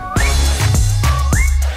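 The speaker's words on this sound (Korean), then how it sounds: "휘파람" A whistled melody of sliding, held notes rings out clearly over a steady low rhythmic backing, from a K-pop dance performance.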